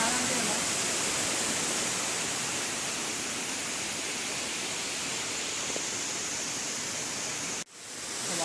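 Mahal Waterfalls in Gujarat pours in a dense, steady roar of falling water, loud and unbroken for most of the clip before cutting off abruptly near the end.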